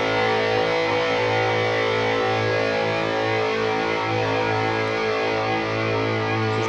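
A mahogany electric guitar through a Carvin V3M amp at full gain rings out as a heavily distorted sustained chord, loud and steady throughout with no talking.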